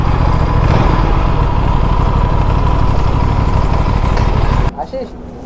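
An Aprilia RS457 motorcycle engine runs nearby with a loud, steady idling drone that cuts off abruptly near the end, leaving a brief quieter stretch.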